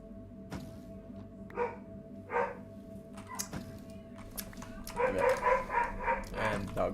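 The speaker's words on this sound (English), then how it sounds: "And dog's going off again, of course." A dog barks in short bursts in the room, about three yips and barks spaced across the stretch, with video game sounds and a low hum running underneath.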